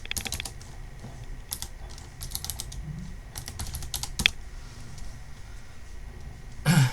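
Someone types on a computer keyboard while working in ZBrush 2018, with rapid clusters of close key clicks broken by short pauses and one sharper tap near the end.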